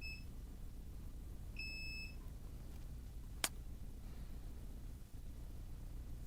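A multimeter beeps in continuity mode while probing a MacBook Pro Retina A1502 logic board with a no-display fault, two short high electronic beeps against faint background hiss and a sharp click.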